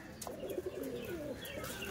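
Soft, repeated cooing from a pair of pigeons rolls along steadily at close range, with a few light chirps and faint rustles mixed in and no voices.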